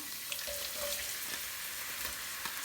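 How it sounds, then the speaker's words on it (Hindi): Finely chopped onion fries with garlic and ginger in a pan, giving a dense, even sizzle close by, with faint stirring ticks and no voice. "अनियन को भी हम फ्राई कर लेंगे।"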